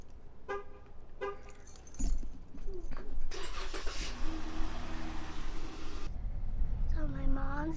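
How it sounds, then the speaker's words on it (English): Car engine starting, with keys jangling and a short horn toot first, then a rising mechanical crank and roar settling into a steady engine hum, all close and loud while voices chatter. "I thought I'd turn this car on."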